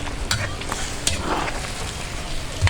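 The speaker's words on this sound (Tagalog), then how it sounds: "Ilagay na natin ang gata mga idol oh." Coconut milk goes into a hot pan and sizzles loudly, a continuous crackling fry with a few sharp pops and scrapes of stirring, close up.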